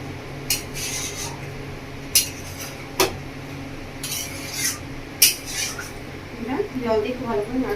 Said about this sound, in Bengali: জল দিয়ে খুব ভালো করে নাড়াচাড়া করে নিয়েছি।